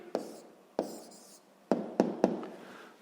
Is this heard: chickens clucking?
no